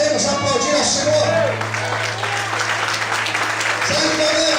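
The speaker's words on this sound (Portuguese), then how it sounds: "Será que podemos aplaudir ao Senhor?" Dense applause from a Portuguese-speaking church congregation praising the Lord fills the room, a continuous loud wash of clapping with a sustained tone and some voices mixed underneath.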